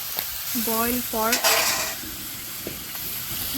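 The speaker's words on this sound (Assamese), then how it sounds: "প্ৰথমে মাংসখিনি কেৰাহীত দি লৈ অলপ সময় ভাজি ৰাখিব লাগিব" Boiled pork pieces fry in a wok over a very low flame, a gentle steady sizzle with a couple of brief squealing tones early on and faint stirring.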